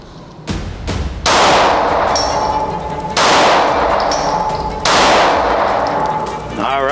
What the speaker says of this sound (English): So let's throw a few rounds out and confirm zero,